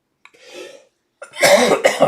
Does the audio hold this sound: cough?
yes